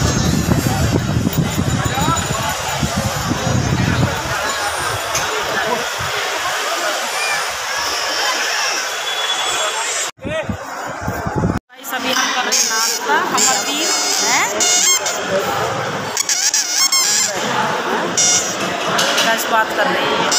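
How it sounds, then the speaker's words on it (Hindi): A dense crowd at Haridwar fills the air with a loud, continuous wash of chatter and murmur, broken by a brief dropout midway, with voices throughout. "तो ये देखिए जी और ये भीड़"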